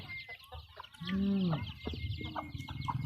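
Close-up chickens cluck and squawk, one drawn-out call rising over busy farmyard clucking.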